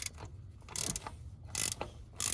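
Ratchet wrench loosening E12 bolts on a 2004 Mercedes ML-350 during a belt and tensioner job, three or four short bursts of rapid metallic clicking, close and distinct, separated by brief quiet pauses.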